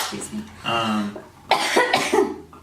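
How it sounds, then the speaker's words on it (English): A sick person lets out a sharp, harsh cough, followed by a second fit of coughing, with a muffled voice or throat noise just before. "coughs up a lung"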